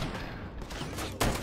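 Gunfire in Ride To Hell: Retribution, a dense, crackling burst of rapid shots rattling continuously, then a heavier blast hitting near the end.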